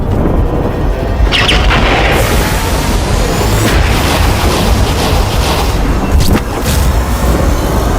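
Heavy booming blasts and crashing rumble roll on continuously, loud and dense, with sharper bursts punctuating the roar.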